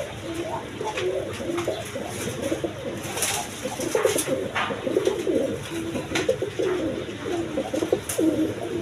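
A male Giasuli pigeon coos in repeated soft, throaty rolls close by, the calls running almost continuously with slight rises and falls in loudness.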